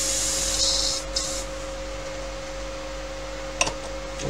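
An airbrush sprays paint onto a 1:72 scale Italeri Opel Blitz model in short hissing bursts over a steady compressor hum, with a brief clatter near the end.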